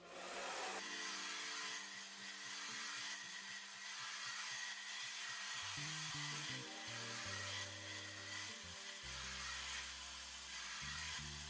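Hair dryer blowing hot air over a fringe being styled with a round brush, a loud continuous roar that persists throughout with shifting low rumbles as the brush moves, no speech.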